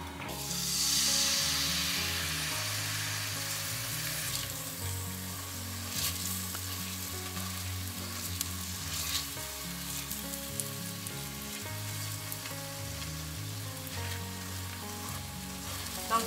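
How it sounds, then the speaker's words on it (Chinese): Batter mixed with chopped coriander cooks slowly over low heat in a pan, giving a steady, continuous sizzle with light stirring and no voices. "用小火慢慢的煎它。"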